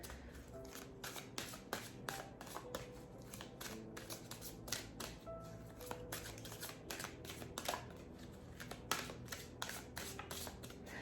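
Oracle cards being shuffled by hand in a steady run of soft riffling and flicking, close and continuous, with no talking.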